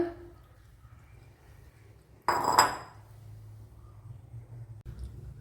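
One brief clatter of gooseberries dropping into a mixer grinder jar, with near silence before and after.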